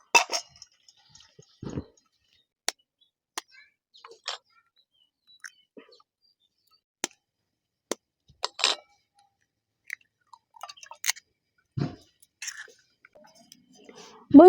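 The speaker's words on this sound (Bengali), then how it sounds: "এবার আমি ডিমটা মেখে নেব" Eggs are mixed by hand for an egg masala curry, giving sparse wet squelches and small clicks scattered irregularly over a quiet background, close and fairly soft.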